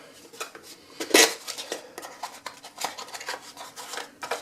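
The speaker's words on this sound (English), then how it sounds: "here's a little toolbox that came with the lathe" Small metal tools clink and rattle as someone rummages through the little metal toolbox supplied with a lathe, giving irregular close-up jangles and scrapes.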